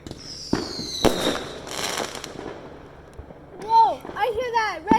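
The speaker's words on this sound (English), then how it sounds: "What the hell is that fireworks?" Fireworks go off outdoors at night. A few sharp bangs and crackling bursts are scattered through the clip, and excited voices of onlookers can be heard between them.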